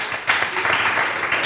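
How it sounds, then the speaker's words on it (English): An audience at an evening religious gathering for the Feast of Trumpets claps together in a sustained, dense round of applause that swells after a brief quieter start and holds steady throughout. "a round of applause on tonight."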